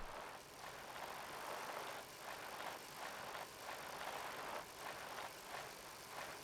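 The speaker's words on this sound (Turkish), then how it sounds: "Bisiklet ses veriyor da çok yani yaklaştığında veriyor." A bicycle in the video game PUBG rolls along on the Erangel map with a steady whirring, rattling hiss, its faint pulsing chatter repeating evenly and heard alone with no talking.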